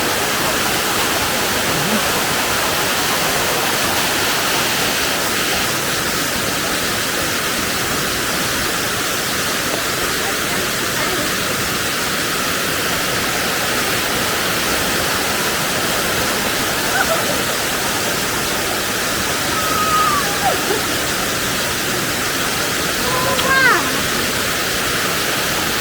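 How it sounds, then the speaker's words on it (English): An upper waterfall in Ghana pours in a steady, loud, broadband rush of falling water that continues unbroken and close at hand, with a few faint voices briefly in the background near the end. "This is the upper waterfall."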